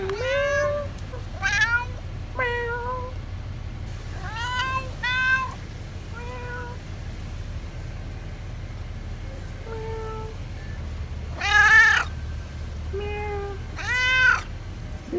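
A cat at a weekend stay in Paso Robles meows repeatedly in short, close, rising calls, some in quick pairs and a louder cluster near the end, with no talking over them.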